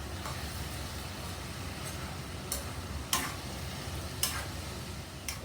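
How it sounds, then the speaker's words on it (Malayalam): A spoon stirs potato and carrot with chilli, coriander and turmeric powders in a sizzling pan for a Kerala stir-fry, giving a few sharp scrapes and taps over a soft, steady frying hiss. "ഇനി നല്ലപോലെ എല്ലാം കൂടെ ഒന്ന് യോജിപ്പിക്കാം."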